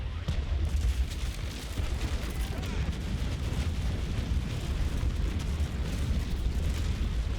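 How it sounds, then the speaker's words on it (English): A warship's cannon broadside thunders in the naval battle game Naval Action Legends, a sustained barrage of loud overlapping booms and deep rumble with no gaps, close and powerful. "Beautiful broadside though"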